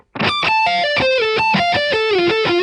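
A fast distorted electric guitar arpeggio, notes swept in quick succession and descending in pitch, loud and alone.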